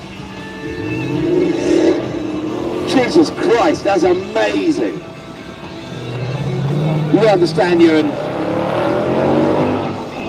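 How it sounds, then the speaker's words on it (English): A supercharged car engine roars and revs loudly under excited talking at a motor show, the exhaust note rising and falling in drawn-out surges, drowning out any supercharger whine. "The exhaust is so loud."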